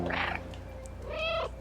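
A cat character in the video game Stray lets out two short meows a beat apart, the second longer and rising, close and clear over a low game background hum.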